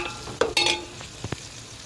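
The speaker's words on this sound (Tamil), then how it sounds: "நல்லா வதங்குது பாருங்கள், பொன் நேரமாக வரணும்" Onions and spices sautéing in a pan for South Indian fish kulambu, with a couple of stirring scrapes and a soft sizzle over about two seconds. Brief utensil clinks sound close by.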